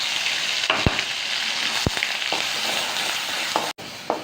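Ground chili garlic paste sizzles in about two tablespoons of hot oil in a kadai for a mushroom dry gravy, a steady close frying hiss broken by a few sharp stirring clacks, with no talking.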